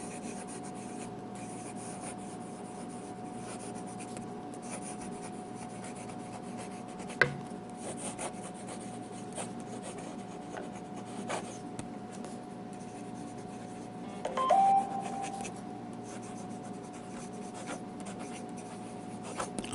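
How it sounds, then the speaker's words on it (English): A Jinhao fountain pen nib scratches and glides across paper in continuous close-up writing strokes, quiet and steady against a faint background hum, with no talking. "And we'll do some writing."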